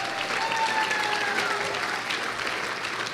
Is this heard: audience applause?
yes